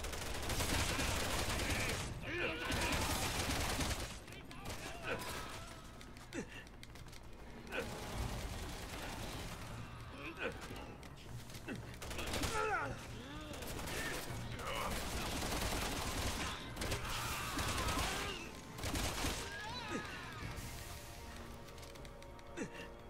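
Dense, continuous gunfire rattles throughout a Resident Evil 6 firefight, with rapid bursts and sharp cracks layered over loud in-game combat noise, and occasional speech in between.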